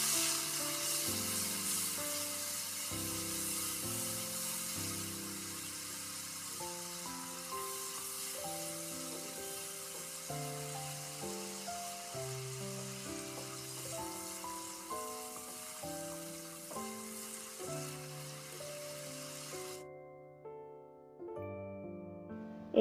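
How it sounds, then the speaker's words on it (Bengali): Spices fried in oil left from frying eggs and eggplant for a winter vegetable dish, a faint hissing sizzle running under a prominent melodic music track for most of the stretch. "ওই তেলের ভিতরেই দিয়ে মশলাগুলো ভালো করে কষিয়ে নিয়েছি"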